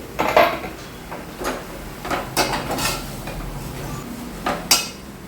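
A utensil stirs eggplant bharit in a pan over a gas flame, giving a few scattered scrapes and light clatters against the pan, close and fairly quiet.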